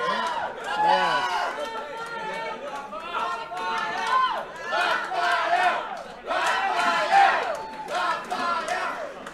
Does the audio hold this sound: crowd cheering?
yes